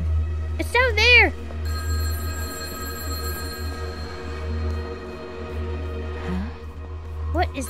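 An old telephone rings in the video game Röki, a steady bright bell tone sustained through most of the clip, with a voice speaking briefly over it near the start and again at the end.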